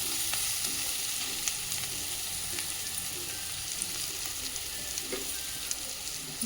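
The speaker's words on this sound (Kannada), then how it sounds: "ಈಗ ಅರ್ಧ ಭಾಗ ಬೆಂದಿದೆ ಈರುಳ್ಳಿ ಇನ್ನು ಸ್ವಲ್ಪ ಬೇಯಲಿ" Onions frying in a pan with salt and turmeric for millet chitranna, giving a steady, dense sizzle that holds evenly throughout, with a few faint clicks on top and no talking.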